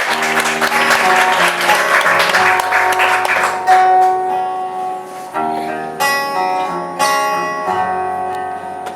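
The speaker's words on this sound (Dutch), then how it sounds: "Ja jongens, even applaus" An audience at a pop concert applauds a singer, sustained clapping that fades as music from the stage comes in underneath it.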